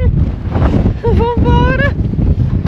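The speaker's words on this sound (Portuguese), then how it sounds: "Tô falando alto porque tá um vento imenso." Strong gusting wind buffets the microphone in a continuous low rumble along Ruta 40 toward Ushuaia, with someone talking loudly over it.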